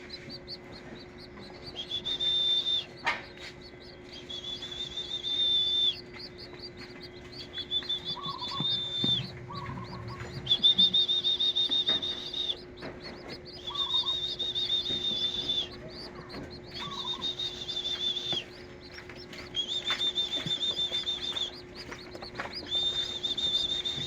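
Hungry fledgling birds in a nest begging for food, close high thin chirps in repeated insistent bursts with short pauses, a faint steady hum beneath and no talk.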